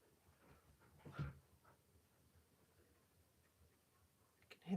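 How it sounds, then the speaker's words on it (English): A dog huffs and pants faintly in the background of a quiet room, with soft breathy puffs and a couple of louder snorts near the start and end. "You can hear my dog huffing and puffing in the background because he's not getting any attention."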